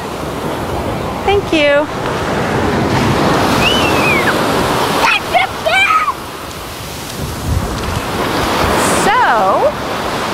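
Ocean surf breaking on a busy afternoon beach, a loud, close, steady wash of waves with wind, punctuated by brief voices of people talking nearby.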